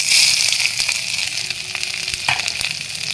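Fennel seeds, nigella seeds and chopped ginger spit and crackle loudly in hot oil, a dense steady sizzle with sharp pops and a few spoon scrapes, no voices.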